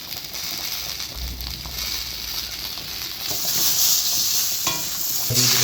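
Chillies and cumin seeds fry in hot oil for a plain eggplant and potato curry, a steady close sizzle with stirring that swells louder toward the end, with a few clattering knocks of the spoon.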